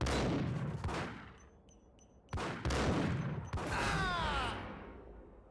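Max Payne gunfire: a handful of loud, close shots fired in separate bursts, each with a ringing echo and faint metallic ricochet whines trailing after.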